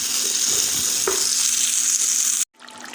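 Masala paste fries in oil in a pan for Smokey Butter Malai Chicken, a steady loud sizzle with a brief stirring scrape midway, then the sound cuts off abruptly and resumes more softly.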